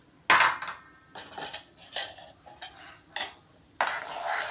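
Urad dal is tipped into a hot pan, with the heat already switched off, and stirred. A close series of clattering clinks and scrapes of a utensil against the pan comes in uneven bursts, with no talk.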